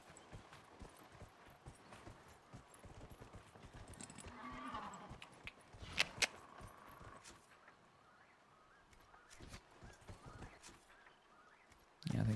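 Horse hoofbeats in the Dragon Age Inquisition video game, a quiet, steady clip-clop of galloping that runs under faint background sound, with a louder bump near the end.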